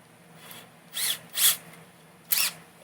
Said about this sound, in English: Put this into your high-speed drill,